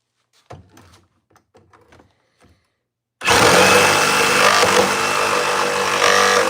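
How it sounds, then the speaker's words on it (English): A nail gun drives nails into wood in a workshop. A few faint knocks and shuffles come first, then a loud, close, continuous mechanical roar takes over and fills the rest of the clip. "let me pump a few nails in there"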